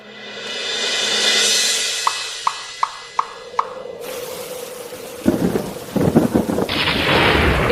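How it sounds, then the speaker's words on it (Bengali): A thunderstorm with steady rain: a long rolling rumble of thunder, then heavier rainfall hissing and pattering loudly, with no voices. "এই তো ঝড় বৃষ্টি শুরু হয়ে গেল"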